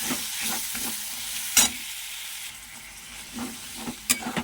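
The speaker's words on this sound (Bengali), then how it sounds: "বাটা সরিষাটা দিয়ে দিলাম" Ground mustard paste going into a hot frying pan and being stirred, with a hissing sizzle and steam plus a few sharp scraping and tapping strokes of the spatula.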